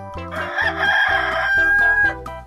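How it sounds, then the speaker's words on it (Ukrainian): A rooster gives one loud, drawn-out crow lasting about two seconds, close by, over soft background music. "Він будить усіх вранці гучною пісенькою Кукуріку."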